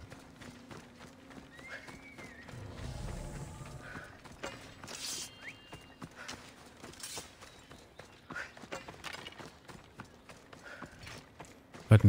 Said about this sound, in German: Warten, kommt mein Pferd hier nicht?